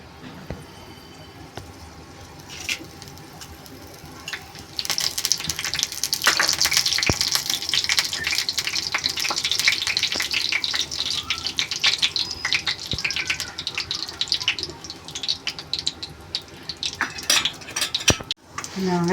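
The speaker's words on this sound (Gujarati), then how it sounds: "હવે આપણે એમાં જીરું નાખીશું," Cumin seeds and curry leaves dropped into hot oil in a pan burst into a loud, sustained crackling sizzle after a quiet start, with a few sharp clinks of a utensil near the end.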